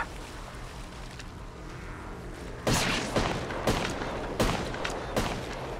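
Gunfire in the Apex Legends video game, a quiet stretch followed by a run of sharp, loud shots in irregular bursts, roughly five cracks over a few seconds, no speech over it.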